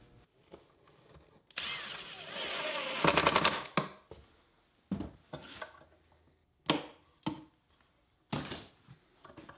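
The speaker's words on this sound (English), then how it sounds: "marked where I'll need to drill holes to attach the drawer pulls" Power drill boring holes for drawer pulls in a shop cabinet: a few loud whirring bursts of a second or so, followed by several short clicks and quick spurts of drilling with quiet gaps between them.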